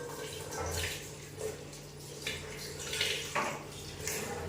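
Beetroot being washed under a running kitchen tap, with a steady close stream of water and splashing as it is handled.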